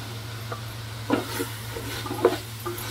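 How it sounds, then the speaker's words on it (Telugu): Soya chunks (meal maker) being stirred into hot oil in a pan for biryani, giving a few soft scraping stirs over a low sizzle. "చక్కగా మొత్తం కలిసిపోయేలాగా అయితే కలిపేసుకుందాం ఇలాగా"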